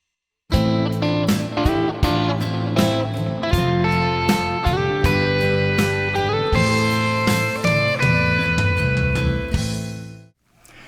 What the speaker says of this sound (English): Double stop 3rds will sound something like this.